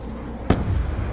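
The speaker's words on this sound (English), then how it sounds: "Damn you zombies, I'm gonna grenade you." Single sharp grenade blast in a zombie shooter video game, one brief loud burst that fades quickly into low rumbling game ambience.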